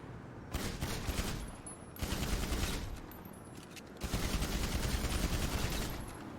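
Sustained automatic gunfire roars in a video game, coming in three long, dense bursts separated by brief pauses, loud and continuous with no talking over it.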